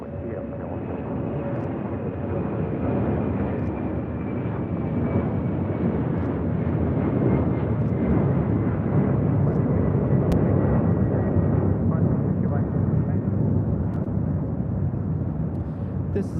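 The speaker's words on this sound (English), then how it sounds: "This is Latam Cargo 1825 taking off to Miami, Florida, a 767-300 freighter in the Avión Solidario livery." A LATAM Cargo Boeing 767-300 freighter takes off at LAX bound for Miami, its engines producing a loud, sustained jet roar that holds steady for over fifteen seconds, with faint radio chatter underneath.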